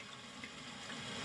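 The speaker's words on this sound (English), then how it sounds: "They adopted what's called a tornado flushing method." Toto toilet using a tornado flush, water swirling in the bowl as a steady, faint wash of rushing water throughout.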